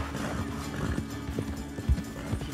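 A horse in Red Dead Redemption 2 trots with rhythmic clip-clopping hooves and gives a whinny, close and fairly loud, with a few heavier thuds partway through.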